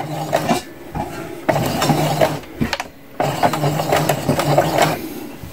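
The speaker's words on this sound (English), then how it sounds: "And we're going to start sewing." A sewing machine stitches fabric for a welder's cap in bursts of rapid mechanical whirring and clacking, close and loud, with short pauses between runs.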